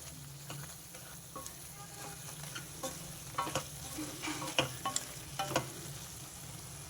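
Fenugreek powder and asafoetida being stirred into a frying tamarind curry with drumsticks and eggs, a soft steady sizzle under irregular spoon scrapes and light taps against the pan.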